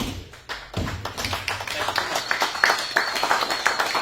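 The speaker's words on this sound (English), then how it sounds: "Let's clap for him one more time, you guys" Small audience clapping for a pianist at a jazz collective performance, uneven scattered claps that build into steady, fairly close applause.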